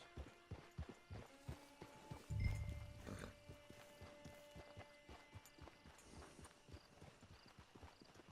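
Steady clip-clop of horse hooves walking at an even pace in Red Dead Redemption 2 Online, close by, with a faint tonal hum in the background and a brief low thump.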